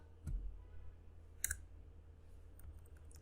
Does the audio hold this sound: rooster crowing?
no